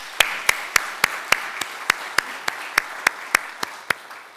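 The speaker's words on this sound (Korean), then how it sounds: "우리 한번 큰 박수로" Church congregation applauding during a Sunday worship service, heard as a steady run of sharp, evenly spaced claps, about fourteen beats in four seconds, moderately loud with no talking over them.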